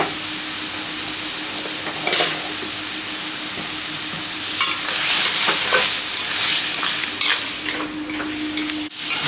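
Spiced curry masala with cumin powder and fish masala being stirred in a pan for a country crab dish, a loud continuous sizzle with repeated scraping strokes, swelling midway and cut off abruptly near the end.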